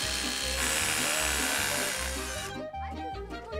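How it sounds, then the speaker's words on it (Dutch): Power drill running steadily while boring into material, a loud continuous whine with a pulsing low rhythm throughout and no clear talk. "Je moet de boor recht houden"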